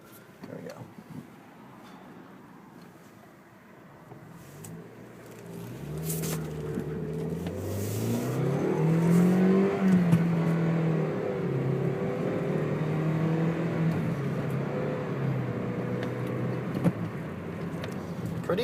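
A 2004 Scion xB with a manual transmission is driven down the road, its engine note rising as it revs and then holding a steady, moderate drone.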